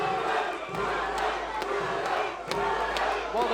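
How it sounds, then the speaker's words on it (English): A crowd at an MMA fight night shouts and cheers continuously, a loud roar of many voices with bursts of louder yelling rising and falling throughout. "the crowd definitely has their opinions"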